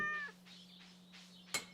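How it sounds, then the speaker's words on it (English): Pet cat in the farming video game Stardew Valley gives two short, clear meows close up, then a brief sharp game chime near the end over a steady low hum. "And then pet your cat."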